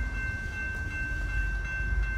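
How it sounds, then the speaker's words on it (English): A Metra express commuter train passes through the Riverside, Illinois station without stopping, a steady loud rumble of rolling wagons with a sustained high tone over it, heard alone. "The next Metra train approaching your station will be a Metra Express train and will not stop."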